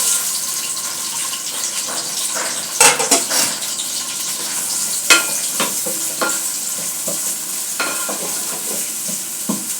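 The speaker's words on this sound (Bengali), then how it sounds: "তেলটা মোটামুটি গরম হয়ে গিয়েছে। 250-300 গ্রাম পরিমাণ পেঁয়াজ কুচি করে নিয়েছি। এখন পেঁয়াজগুলো দিয়ে দেব।" Chopped onions, about 250 to 300 grams, hitting hot oil in a pan, a loud steady sizzle with sharp spikes as they drop in, followed by stirring and occasional clinks of the pan.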